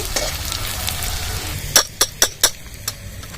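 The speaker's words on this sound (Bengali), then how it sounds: "পেঁয়াজটা লাল লাল করে ভেজে নিয়েছি" Onion fries in a pan with a steady sizzle, followed by a run of four or five sharp scraping clacks as a spatula stirs against the metal, close and clear with no talking.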